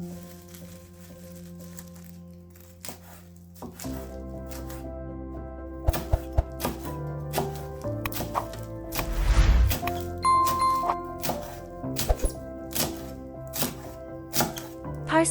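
Parsley chopped with a knife on a board, a series of sharp, irregular thuds and taps at close range over background music, louder strokes clustering in the second half.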